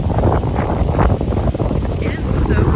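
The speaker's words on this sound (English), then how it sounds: "It is so windy." Strong wind roars steadily across the microphone at an outdoor campsite, a dense low buffeting rumble with gusts that never lets up, with voices faintly mixed in underneath.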